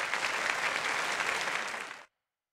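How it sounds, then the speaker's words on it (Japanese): Dense, steady audience applause for the winning player at a Tekken 5 tournament, sustained evenly for about two seconds before cutting off abruptly. "さあ勝利したティッシモン選手に大きな拍手をお願いします"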